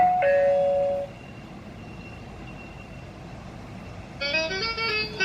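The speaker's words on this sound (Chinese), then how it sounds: "我的测试机已经响了" An OTTalk home care call bell rings after its one-touch button is pressed, starting with a single loud electronic chime, then a faint sustained tone, then a brighter burst of rapid warbling ring tones near the end.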